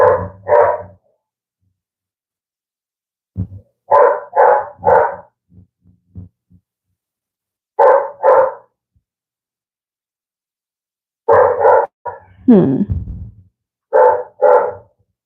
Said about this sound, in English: Why is my dog barking like that?